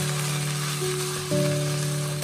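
Shredded pork stir-frying in hot oil in a wok, a steady soft sizzle running throughout under a low background hum, with no talking.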